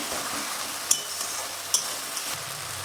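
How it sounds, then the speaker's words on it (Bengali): A spice paste fries with a steady sizzle in a pan while it is stirred for a curry of raw jackfruit and prawn, with a couple of sharp utensil clinks against the pan. "দু 3 মিনিট পর মশলাটা নেড়ে দিলাম।"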